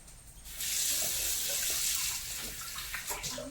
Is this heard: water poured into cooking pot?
yes